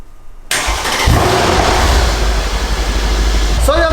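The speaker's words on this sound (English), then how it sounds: "So we'll start it up, get it up to temperature and see how the exhaust sounds." A salvaged Mercedes C63 turns over after a brief quiet start, catches about a second later and settles into a loud, close, rumbling idle that holds to the end.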